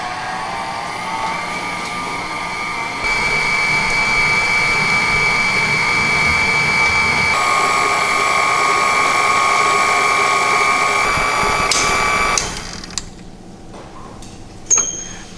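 A stand mixer running at low speed steadily whirs with a sustained tonal motor hum, rising slightly once it gets going, while ingredients are worked into crumbs, then shuts off, followed by a few handling clunks, close and loud with no talking.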